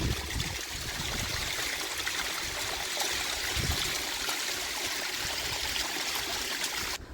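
Cold mountain water in a stream rushes and trickles steadily on an off-road route near a tea estate, a continuous close wash of flowing water with no talk.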